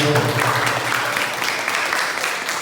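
A class of students claps steadily for a classmate who has just spoken, a dense, close burst of hand clapping that stays loud throughout and begins to thin slightly toward the end.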